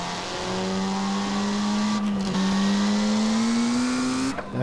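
A car engine accelerating in a single smooth rising pull, its tone climbing steadily over a few seconds at moderate distance, with no voices.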